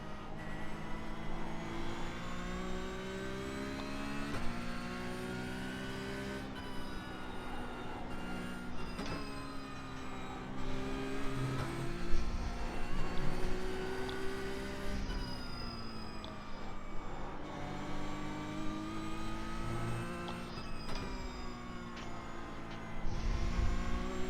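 Porsche Cup race car engine revving continuously during a race, a loud sustained whine that rises and falls with gear changes and throttle, heard from on board with no talk.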